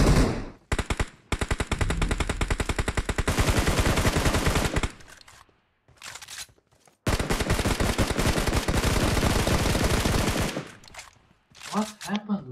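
Automatic gunfire in PUBG Mobile, long rapid bursts of loud shots separated by short pauses, with a few scattered single shots near the end.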